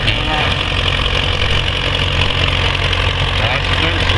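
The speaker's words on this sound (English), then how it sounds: "The Case LA tractor isn't just vintage, it's a beast built for torque." A vintage Case LA tractor engine runs loud and steady during a tractor pull, its deep rumble continuous and close, with voices faintly mixed under the noise.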